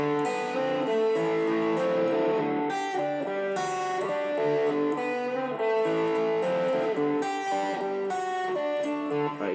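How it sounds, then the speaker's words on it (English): Clean electric and acoustic guitars play the intro of a song, a steady, full layer of sustained chords and picked notes running unbroken and loud throughout, with no voices. "We have an clean electric guitar,"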